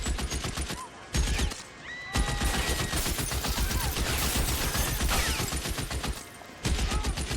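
Rapid gunfire in L.A. Noire, dense bursts of shots packed together in a near-continuous fusillade, loud and close, broken by a few short pauses.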